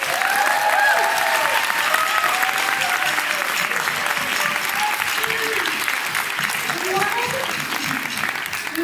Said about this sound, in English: Can we give a round of applause?